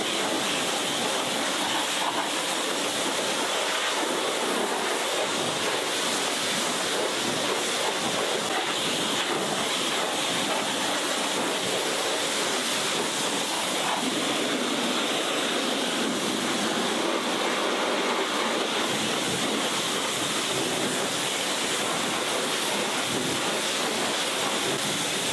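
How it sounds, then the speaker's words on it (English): A jet wash rinsing down a car's engine bay during a long detailing job, a loud, steady, close hiss of spraying water that carries on without a break. "it was all rinsed off with the jet wash"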